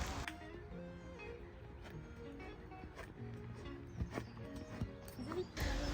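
A horse being walked to catch its breath before show-jumping competitions resume, hooves clip-clopping steadily and faintly at a walking pace, with light background noise.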